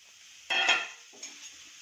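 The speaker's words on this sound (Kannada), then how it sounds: "ಈಗ ಬಾಣಲೆಗೆ ಹಾಗಲಕಾಯಿ ಹಾಕ್ಕೊಳ್ತಾ ಇದ್ದೀನಿ." Sliced bitter gourd tips into a hot frying pan with a short, bright clatter and hiss. A brief burst of scraping follows, then a fainter clink about a second later, close and clear with no talking.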